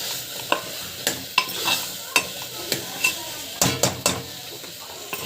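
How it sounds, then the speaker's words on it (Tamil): Colocasia pieces are sautéed with spice powders in a pan, with repeated sharp spatula scrapes and knocks against the metal over a faint sizzle, close and fairly regular. "ஆட் பண்ணிவிட்டு நல்லா வந்து வதக்கிட்டுக்கோங்க."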